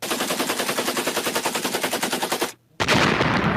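A rapid burst of gunfire sound effect rattles loudly and steadily for about two and a half seconds, stops for a moment, then returns as a harsh noisy blast, played on a live talk radio show.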